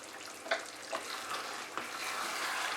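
Chicken korma with a spoonful of keora water being stirred in a pan: soft sizzling bubbling with a few quiet spoon scrapes, gentle and fairly faint, no talking.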